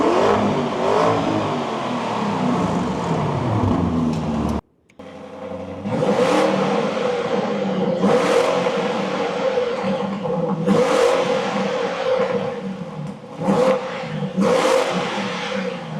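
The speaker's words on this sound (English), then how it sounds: "you have the Novitec exhaust, which right now I'll do a before and after" A Lamborghini Urus fitted with a Novitec exhaust rumbles and revs nearby, with a short cut near five seconds, then several sharp throttle blips rising over a deep idle.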